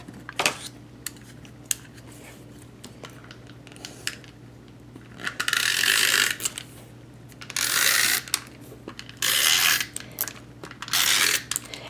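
Stampin' Up! Snail adhesive tape runner rolled across paper, producing several short bursts of close, crisp rasping and clicking separated by quiet gaps, with small handling taps between them.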